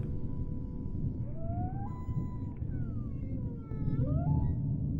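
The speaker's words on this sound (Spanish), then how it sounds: "Es una ballena azul." Blue whale calls drifting as long, low, wavering moans with rising and falling glides, set over a steady deep underwater rumble, unhurried and without voices.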